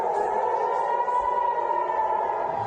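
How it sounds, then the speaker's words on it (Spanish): A steady, wailing air raid siren sounds continuously from a distance in Israel during the war with Hamas, holding a sustained tone with slight wavering and no voices. "Y 6:30 empieza a sonar las sirenas."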